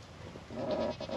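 A goat bleats once on a rotational-grazing pasture with electric fencing, a short wavering call at moderate distance over light outdoor background noise.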